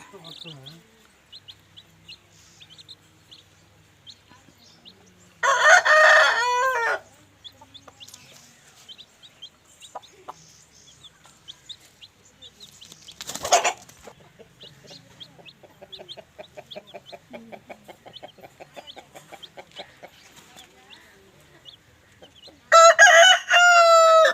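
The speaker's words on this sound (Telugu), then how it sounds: "ఫ్రెండ్స్ ఇది మూడో పుంజు" Kathai-breed roosters crow in loud bursts, one near the start, one midway and one at the end, with soft clucking and someone talking quietly between the calls.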